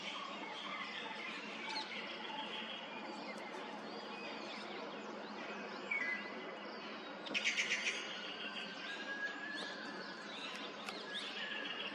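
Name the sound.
various birds calling in Pench Tiger Reserve forest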